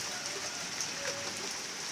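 Rain falls steadily outdoors as an even, continuous hiss of drops at moderate level, with no talking.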